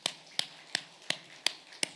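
Six sharp, evenly spaced hand claps in a steady rhythm at a worship service. They sound crisp and fairly close, with quiet gaps between them and no talking.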